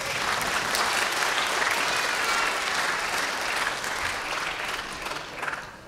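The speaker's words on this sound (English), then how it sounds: "Mickey O'Kane, give her a big round of applause." A Christmas concert audience gives a sustained round of applause, loud and steady throughout, tapering slightly at the end, with no voices over it.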